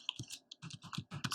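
HTML code being typed on a computer keyboard: a quick, irregular run of close, crisp key clicks and taps, some grouped in short bursts, with no talking.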